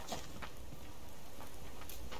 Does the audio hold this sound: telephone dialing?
no